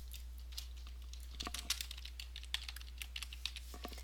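Computer keyboard typing while entering data into a road-editing database, a quiet close patter of irregular key clicks over a steady low hum.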